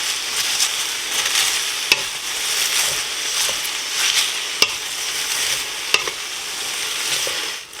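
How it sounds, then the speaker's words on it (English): Cabbage being stirred in a pot for haluski soup, cabbage and noodles, with a soft continuous sizzle under scraping utensil strokes and a few sharp clicks of spoon against the pot, close and fairly loud, no talking. "And now I'm going to stir the cabbage"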